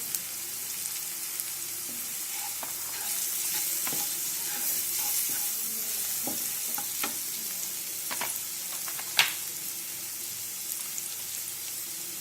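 Mushroom masala fries in a pan with turmeric and spices while being stirred, giving a steady sizzle with scattered scraping and clinking spoon sounds and one sharper knock near the end.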